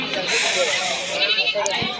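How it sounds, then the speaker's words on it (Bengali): Mother goats bleat at a rainy livestock market, a short cry rising amid hissy crowd noise and nearby talking. "এগুলো হচ্ছে মা ছাগল"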